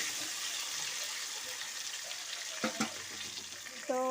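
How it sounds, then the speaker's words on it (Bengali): Potato pieces fry in hot oil as a continuous, moderate sizzle with a watery hiss. A few sharp clinks of a utensil against the pan come toward the end. "তো দেখো আমি আলুটা ভাজা বসিয়ে দিয়েছি"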